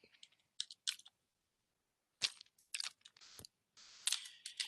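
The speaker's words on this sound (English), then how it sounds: "you're typing that" Bursts of computer keyboard typing, quick clusters of sharp clicks separated by short silent pauses, fairly close and alone with no voices.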